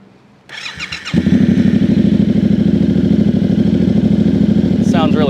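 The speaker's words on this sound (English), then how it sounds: "It has a slip-on exhaust on it." 2024 Yamaha R7 with an unbranded slip-on exhaust firing up: a short cranking burst, then the CP2 twin catches and settles into a loud, close, lumpy idle.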